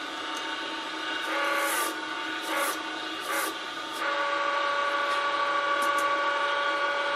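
Steady whine of a wood lathe spinning a wooden spinning top blank, with several squealing bursts of friction as the blank is pressed and burns into an MT2 drive center, close and loud, with no talking.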